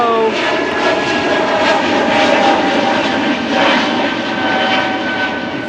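An airplane taking off fills the whole stretch with a loud, steady engine roar that stays close and continuous, with no talking over it.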